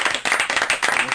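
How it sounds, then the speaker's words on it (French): A small group of guests in a radio studio claps briskly and close, a quick flurry of distinct hand claps lasting about a second. "Allez, on s'applaudit tous."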